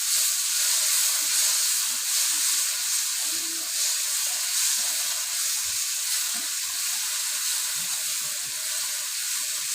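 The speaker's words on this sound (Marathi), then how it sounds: "भाजून झालेला आहे कांदा. याचा टोमॅटो घालते." Chopped tomato goes into fried onion in a pan while Malvani-style brinjal bharit cooks, and a loud, even hiss and sizzle runs steadily throughout with no talking.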